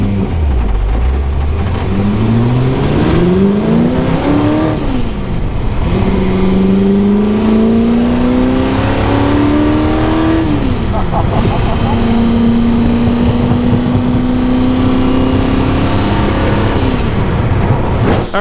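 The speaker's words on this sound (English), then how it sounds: "Mike drove the GT40." Ford GT40 sports car engine rising and falling through repeated revs as it accelerates through the gears, a steady loud drone close by that fills the whole stretch, with people talking faintly underneath.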